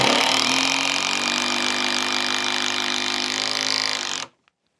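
A Bosch GDR 12V cordless impact driver drives a 6 mm PZ3 screw, a loud, steady continuous hammering whir for about four seconds that stops abruptly, heard alone without talk.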